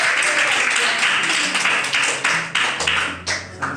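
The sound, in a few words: audience clapping hands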